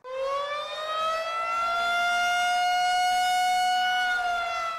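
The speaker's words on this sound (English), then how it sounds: "There are more than 80 sirens in the Tulsa area alone, and they can be heard up to a mile away" An outdoor storm warning siren in Tulsa sounds a steady, sustained wail that rises slightly and holds its pitch, loud and alone with no talk.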